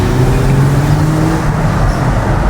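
A Mercedes W209 CLK 350 driving along, its exhaust giving a steady, loud low drone with engine hum and road noise throughout, no voices over it.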